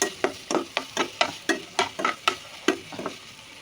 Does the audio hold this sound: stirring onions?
yes